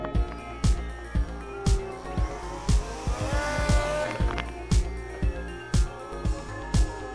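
Electric motor of a HobbyKing EZIO 800 RC glider whines up in rising pitch during a grass takeoff, under repeated sharp rhythmic thumps and some ambient noise.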